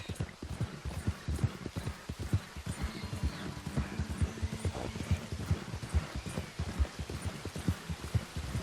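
Horse hooves pound steadily at a gallop in the Red Dead Redemption 2 video game, a fast, even clip-clop rhythm running throughout under a wash of noisy background sound.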